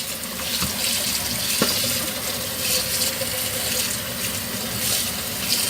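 Cooked spaghetti pasta being rinsed under a running kitchen tap, a steady close stream of water splashing into a sink for several seconds, with a couple of faint clinks and no talking.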